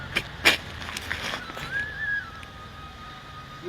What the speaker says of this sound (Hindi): शीतकारी में सीटी जैसी आवाज आती है